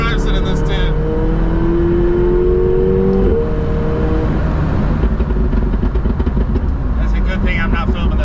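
An 850-horsepower supercar pulls hard with a loud, continuous engine roar, its pitch climbing through the gear before a brief shift, then holding under heavy road and wind noise.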